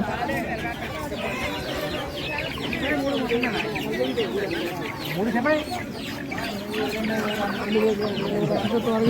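Roosters and hens for sale at a village Sankranti market, clucking and calling close by amid constant crowd noise, with people talking over them.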